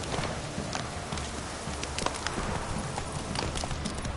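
Horse hooves clip-clop at a steady walking rhythm in Witcher 3, close and clear, mixed with game ambience and a faint voice.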